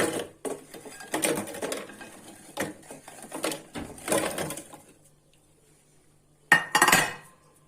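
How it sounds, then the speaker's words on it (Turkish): A food processor grinds biscuits into fine crumbs for a no-bake strawberry cheesecake base, running in loud, rattling, whirring bursts near the microphone, then a short pause before one more burst. "Robotta çekeceğiz güzelce. Un ufak olana kadar çekiyoruz."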